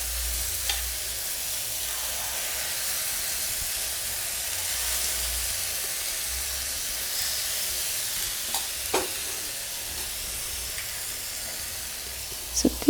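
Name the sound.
egg mixture frying in oil in a pan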